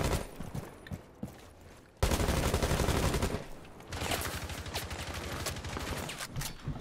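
Rapid bursts of automatic gunfire from a first-person shooter multiplayer match with claymore mines, loud, dense volleys with a short pause and then sustained firing.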